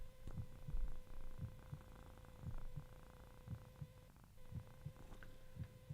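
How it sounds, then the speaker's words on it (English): A domestic cat purrs right against the microphone, a low rhythmic throbbing that repeats steadily in close, soft pulses with a faint hum behind it. "insisting on purring directly right by the microphone"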